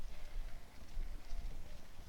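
Horse hooves plod softly during a therapeutic riding lesson, a faint irregular clip-clop under steady outdoor wind noise and low rumble.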